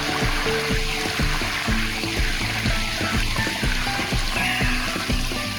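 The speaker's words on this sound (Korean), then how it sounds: "계속 폭포가 나오네" Water pouring steadily down a waterfall in a Himalayan forest during the rainy season, a continuous close rush with no voices.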